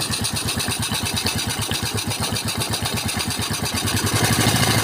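A Yamaha Mio motorcycle engine idles steadily with its oil pump running, giving a close, loud, even rhythmic chugging that rises slightly near the end, with no talking.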